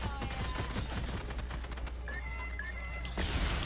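Rapid video game gunfire rattles in quick bursts during a duos match, dense and continuous under a busy mix of game effects, with a brief voice in the background.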